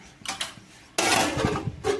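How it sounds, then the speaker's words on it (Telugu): A metal lid is set onto a cooking pot of rice in a home kitchen, giving a few light clinks followed by a louder, sharper clatter and a brief rattle as it settles, with no talking. "మూతనైతే పెట్టేసుకున్నా"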